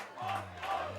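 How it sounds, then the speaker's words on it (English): Rugby crowd at an over-50s men's World Cup match in Cape Town, South Africa against England, shouting and screaming in swelling bursts after a heavy tackle, with a sustained low drone and rising cheers. "crowd voicing their opinion. Everybody screaming and shouting."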